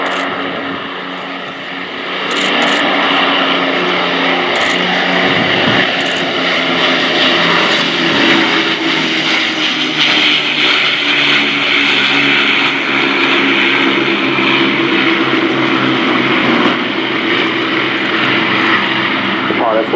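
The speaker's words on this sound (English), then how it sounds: "Now you see the fighters chasing her down, looking to join back up with her by the end of the pass." Battle of Britain Memorial Flight Lancaster bomber and escorting fighters making a pass at RIAT 2018, a loud sustained propeller engine roar that swells and holds for the whole stretch, with a voice speaking over it.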